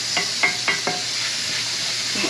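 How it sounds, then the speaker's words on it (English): Wild hog stew being stirred in a pot: a few quick spoon scrapes against the pot at the start over a steady low sizzle, then mostly continuous simmering hiss, close and without talk. "Just keep stirring."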